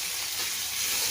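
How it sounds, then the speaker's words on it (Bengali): Water being stirred in a kadai (wok) during home cooking, giving a steady, close hissing bubbling sound with no talk over it. "পানি দিয়ে দিলাম, পানিতে কিছু নাড়াবো"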